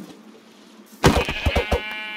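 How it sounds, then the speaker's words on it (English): Sheep in the Minecraft video game bleat several times in quick succession, loud and close, starting abruptly after a second of quiet game ambience. "Sheepy, sheep, sheep, sheep."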